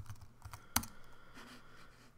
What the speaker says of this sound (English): type whatever you want in here